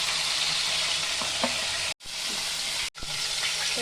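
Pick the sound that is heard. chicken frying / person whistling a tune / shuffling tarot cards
chicken frying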